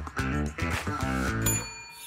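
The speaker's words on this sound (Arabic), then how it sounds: "الجرس." A buzzer or bell chimes on a Kuwaiti television quiz show, a series of bright pulsing tonal rings with a sustained ringing tail, loud and close without talk.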